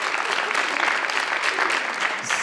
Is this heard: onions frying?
no